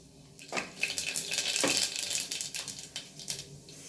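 Mustard seeds crackle in hot oil in a pressure cooker while making brinjal chutney, giving a dense, close sizzle with sharp pops and spits that swell midway and then ease off, with no voices.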